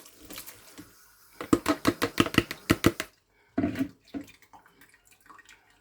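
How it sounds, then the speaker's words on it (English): Water splashes and drips in quick, rhythmic bursts as soaked abacha is drained, then stops and resumes briefly with scattered drops. "After 4 minutes, I will be draining out the water."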